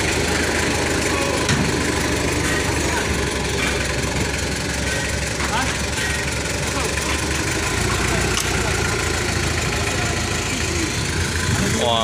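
An engine-driven candlenut cracking machine runs steadily and loudly up close, a continuous mechanical drone with rattling and knocking throughout, bound for Sulawesi.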